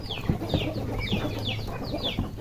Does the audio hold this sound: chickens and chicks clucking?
yes